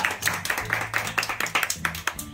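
A small group claps hands at a family gathering during a guessing game, producing quick, uneven rhythmic claps that are close and moderately loud, with faint voices underneath.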